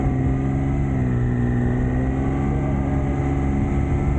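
A car engine with a slipping clutch revs gently and steadily on a Himalayan mountain road, a continuous mid-pitched drone with a hum that holds almost level throughout and no voices over it.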